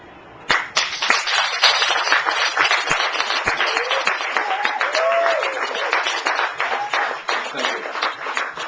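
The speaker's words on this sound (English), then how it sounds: "That applause" Audience applause at the Latitude festival: a dense, steady wash of many hands clapping that starts abruptly and holds loud and continuous, with a few faint whoops or voices rising from the crowd mid-way.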